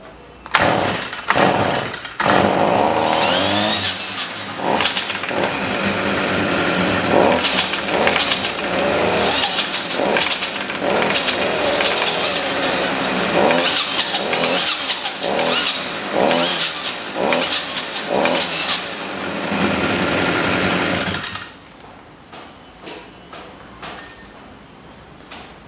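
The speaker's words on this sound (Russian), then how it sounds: "покажу, какой грохот от нее идет, так как редуктор уже пришел в негодность, там проскакивает, прохрустывает" A Stihl FS 55 string trimmer with a worn, crunching angle gearbox starts with a few pulls, then runs loud and rough with revving surges for about twenty seconds before cutting to idle.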